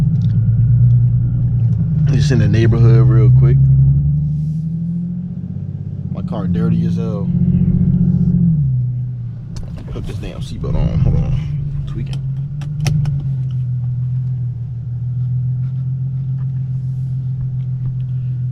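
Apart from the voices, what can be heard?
car exhaust with Vibrant resonators, Infiniti G37 driving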